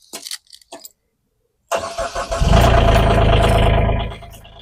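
A Derette V1000 engine with 22.7 hours on it is cranked: a few short clicks and rattles, a pause, then it catches and settles into a loud, steady idle up close before dropping away at the end.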